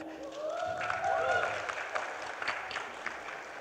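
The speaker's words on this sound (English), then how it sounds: "A round of applause, please, again, for Pandurang." A crowd claps steadily at moderate volume while an amplified voice speaks over it.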